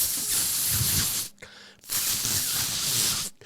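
A voice mimics a steam room filling with steam, producing two long, loud breathy hisses separated by a short pause, close and alone.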